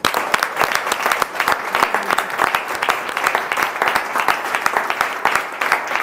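A church congregation at a prophetic deliverance service breaks into loud, sustained applause, dense rapid clapping from many hands filling the room continuously for several seconds, with faint voices underneath.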